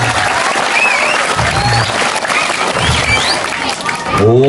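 Applause from an audience at a Balinese bondres comedy performance at a village temple in Bangli, a broad sustained wash of clapping with crowd noise and whistles throughout.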